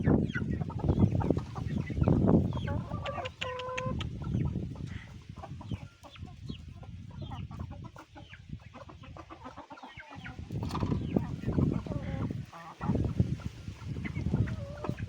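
Farmyard chickens clucking and crowing in breezy weather, a close chorus of overlapping clucks and short calls, busier at the start and end with a quieter stretch in the middle.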